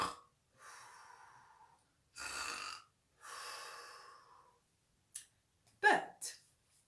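A voice imitates a sleeping dragon snoring, with slow, breathy inhale and exhale cycles separated by silence, then a few sharp snorts and clicks, close and fairly quiet.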